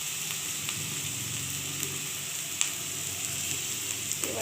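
Chopped onion fries in hot oil with a little salt added, giving a continuous close sizzle with scattered light crackles and pops throughout.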